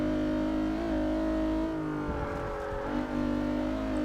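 A car in Forza Motorsport 6 runs at full throttle in fourth gear. The engine drone is loud and steady and climbs in pitch, dips briefly, then pulls strongly again.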